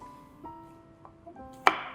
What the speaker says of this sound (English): And then we're going to chop small onions.